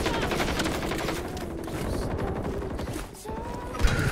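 Rapid gunfire in a Call of Duty match on the Fortune's Keep map, a dense continuous rattle of shots that stays loud throughout, with a brief dip near the end before a sharp burst.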